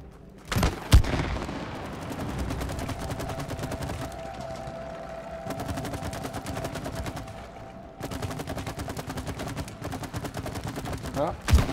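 Rapid gunfire in the video game It Takes Two, a dense crackling barrage that runs almost continuously with a few louder bursts, playing over game music and effects.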